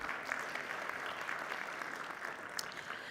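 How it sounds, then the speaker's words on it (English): At an AI summit, an audience claps steadily for a speaker. The applause is faint and distant but continuous, with no voices over it. "a round of applause one more time"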